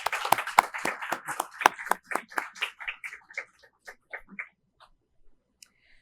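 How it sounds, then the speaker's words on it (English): Scattered hand claps at a healthcare system employee awards event, a few people clapping crisply at first, then thinning into sparse, fading single claps before dying out into silence. "Let's give our Length of Service awardees a round of applause"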